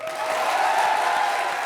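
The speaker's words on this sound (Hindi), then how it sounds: "जोरदार ताली बजाओ फिर।" Audience applause at a comedy show taping, a steady, dense wash of clapping from a studio crowd that carries on without a break.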